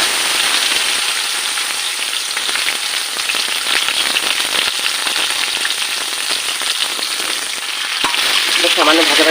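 Pointed gourd and potatoes frying in a pan with ginger paste, a loud, steady hiss and sizzle with scattered crackles and occasional stirring scrapes, close up.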